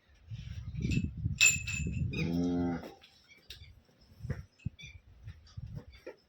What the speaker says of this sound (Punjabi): ਐਚਐਫ ਵੱਛੀ ਹੈ ਦੋਸਤੋ